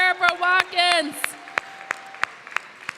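An audience at a school budget forum in an elementary school gives a thin, scattered round of clapping that trails off into sparse single claps after a voice speaks briefly.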